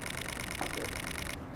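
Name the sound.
camera shutter continuous burst shooting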